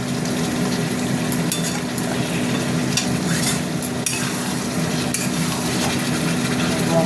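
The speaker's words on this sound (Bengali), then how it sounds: "দেখো বন্ধুরা মশলাটা কষা হচ্ছে" Spice masala for a red, fiery chicken curry sizzles steadily in hot oil while a utensil scrapes and stirs against the pan, close by and continuous.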